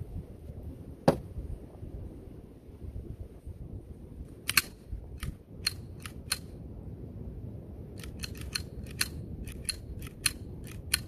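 The metal slide of a Sig Sauer P320 X-Carry CO2 pistol is racked and released, giving one sharp snap and then clusters of crisp metallic clicks in quick bursts, close and clear against quiet room hiss.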